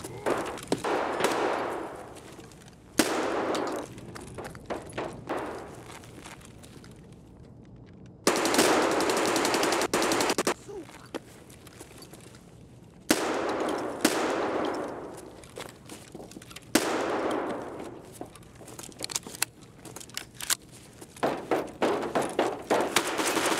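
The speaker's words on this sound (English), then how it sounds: "Alright, we're using a basic 155 with an 8 shell mag tube." MP-155 shotgun with an 8-shell magazine tube firing in the game Escape from Tarkov: several loud bursts of rapid shots, with gaps of quieter sound between the volleys.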